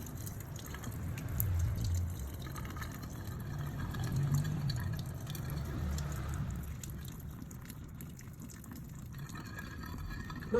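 Cooked noodles for buldak and tteokbokki are drained, giving a soft, continuous pour and trickle of water, fairly quiet and close, with no talk over it.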